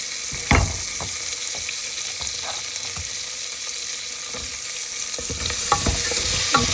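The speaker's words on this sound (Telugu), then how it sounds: "వేసుకొని బాగా కలుపుకోవాలి. ఒక 2 మినిట్స్ అలా ఫ్రై." Carrots, beans, green peas and potato stir-fried in a pan, a steady close sizzle broken by several sharp scraping stirs of a spoon against the metal.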